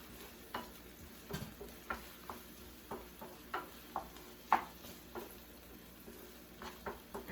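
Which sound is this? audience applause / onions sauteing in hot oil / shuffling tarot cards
onions sauteing in hot oil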